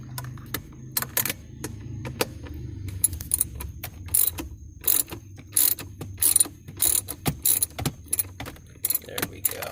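A ratchet loosens bolts holding a Toyota Corolla head unit, rapid clicking bursts in repeated strokes with brief pauses, close and loud, with no speech.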